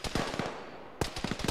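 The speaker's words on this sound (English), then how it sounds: "Roger, that BRDM's what's shooting us." Heavy gun on a BRDM armored vehicle firing in a military video game, a rapid burst of loud, sharp reports, a brief pause, then another quick volley.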